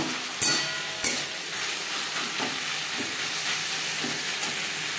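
Ginger paste and green and ripe chilli paste fry with tomato, garlic and onion in a pan for chicken ghugni, giving a steady close sizzle with a couple of sharp clinks and stirring scrapes near the start.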